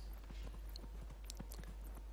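Horse hooves clip-clop in a steady trotting rhythm in the video game Dragon Age: Inquisition, faint and even over a low constant hum, with no voices.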